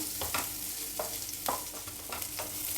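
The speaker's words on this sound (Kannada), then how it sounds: "ಈಗ ಈರುಳ್ಳಿ ಆಲ್ಮೋಸ್ಟ್ ಫ್ರೈ ಆಗಿದೆ" Onions frying in oil in a pan with a pinch of salt, a steady sizzle under repeated scraping stirs of a spatula, close up with no talk.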